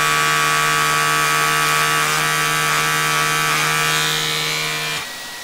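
A Flowbee home haircut device runs with a vacuum attached, giving a loud, steady motorized whine and drone with a slight shift in pitch, then cutting off abruptly just before the end.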